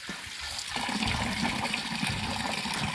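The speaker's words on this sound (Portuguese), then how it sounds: "Água da fonte, água direta da fonte" Spring water flows straight from a natural source in the Serra do Mendanha park near Rio de Janeiro, a loud, close, continuous rush and splatter that swells after the first second.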